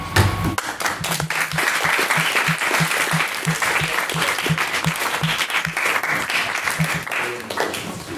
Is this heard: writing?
no